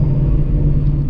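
Straight-piped Shelby GT350 revving hard through a downshift on a city street at night, a loud continuous exhaust roar with a strong low drone held close and steady throughout.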